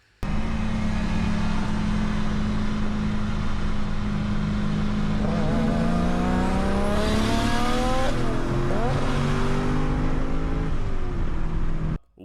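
Turbocharged car engine revs hard and climbs steadily as a big turbo spools, its pitch sweeping upward before easing off; loud, close and continuous, with no voices.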